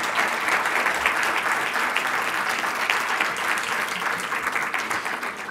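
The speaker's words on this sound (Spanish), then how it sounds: "Para todos ellos, un fuerte aplauso." Dense, sustained audience applause at a banking communication seminar, a steady, even roar of many hands clapping throughout.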